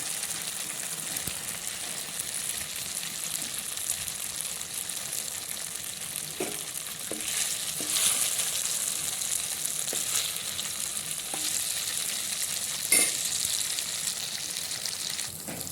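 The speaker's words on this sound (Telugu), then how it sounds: "ఇవి కూడా ఫ్రై చేసుకున్నాం" Ingredients for an amaranth-leaf and liver fry sizzle steadily in a pan, a constant close hiss broken by a few faint clinks and stirring knocks.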